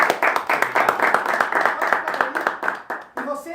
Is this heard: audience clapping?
yes